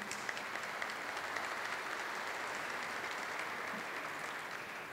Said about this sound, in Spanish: Cristina merece un aplauso